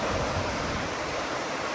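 Floodwater rushing through a village as flood surges in, a loud, steady broadband roar with no pause, close and continuous like heavy surf, with no voices.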